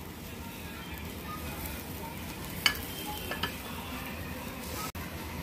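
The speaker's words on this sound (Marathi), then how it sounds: "आता आपण हे कापलेलं कारलं पॅन मध्ये टाकूयात।" Thin slices of bitter gourd frying in a pan, a steady close sizzle with faint stirring and a few light clinks of utensil against the pan.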